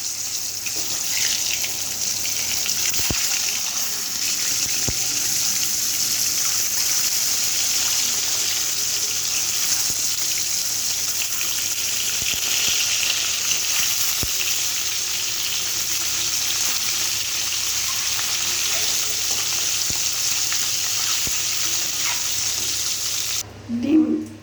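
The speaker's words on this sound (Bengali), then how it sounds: "ডিম ভাজা হয়ে গেছে" Eggs seasoned with salt and turmeric fry in a pan, giving a steady, unbroken sizzle and hiss that holds at an even level for the whole stretch, with a small clatter right at the end.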